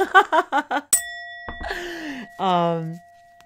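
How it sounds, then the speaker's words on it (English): A single bright bell strike rings out and lingers with a long, sustained ring, framed by speech before and after it. "and confirmed by the bell."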